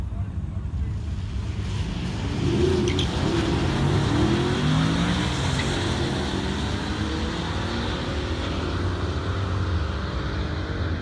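A Mercedes E63 AMG wagon launches off the line in a drag race against an Audi R8, its engine a low, sustained roar heavily buffeted by wind noise, with a faint rising note partway through.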